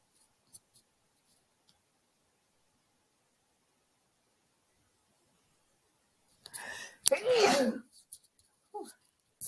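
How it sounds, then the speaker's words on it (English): A single loud, close sneeze bursts out near the end after a long stretch of near silence, followed by a brief sniff or exhale. "I think I'm going to sneeze."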